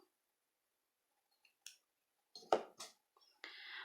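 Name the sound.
scissors cutting crochet yarn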